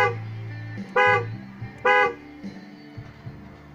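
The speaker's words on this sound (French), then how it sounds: "Plus klaxon." A 2007 Opel Zafira B 120 hp car horn, sounded via the steering-wheel control, gives two short honks about a second apart over a low, steady hum inside the car.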